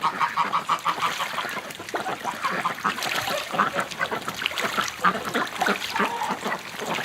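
A flock of crossbred ducks on a farm in winter gives off loud, continuous honking and quacking, with many overlapping calls close by throughout.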